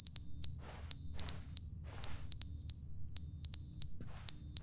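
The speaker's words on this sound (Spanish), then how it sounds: "El detector de humo." Loud, shrill beeping from a smoke detector in the video game The Stanley Parable repeats in clustered pulses with brief pauses, steady and close over a low rumbling background.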